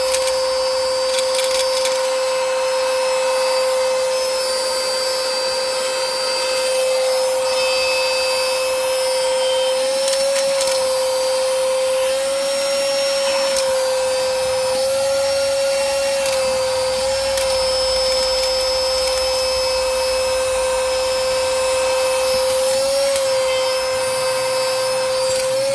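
Coclean portable vacuum cleaner running continuously, a loud steady motor whine with a high tonal hum and occasional small bumps and pitch wobbles as it moves over surfaces.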